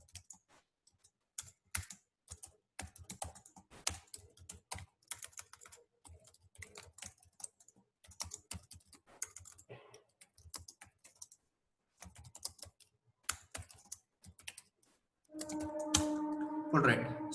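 Code is typed on a computer keyboard in quick, uneven bursts of close clicking keys with short pauses, and a voice begins talking near the end.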